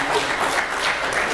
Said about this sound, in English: And I love that some men are clapping.